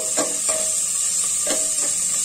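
Chopped garlic, ginger and onion sizzle in a pan with a steady hiss while a utensil scrapes and stirs them in several distinct strokes, close and fairly loud, with no talking.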